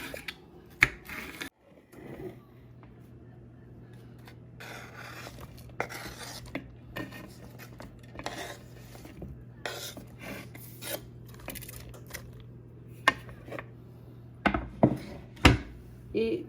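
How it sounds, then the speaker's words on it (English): Knife slicing vegetables into long thin strips on a cutting board for an Indian tawa fry sabzi, with scattered sharp cutting taps and scraping over a low steady hum, several strokes clustering toward the end. "Cut them in long strips."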